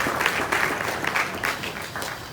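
Audience at an awards night of the Africa Tourism Leadership Forum in a hotel hall in Accra, Ghana, clapping in a dense, steady burst of applause that carries on evenly throughout.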